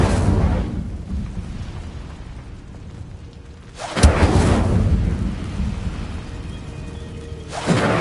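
A fiery Incendio spell blasts out in Hogwarts Legacy, a loud whooshing, rumbling burst that booms in, fades to a low roar, then bursts again near the end, with no talking.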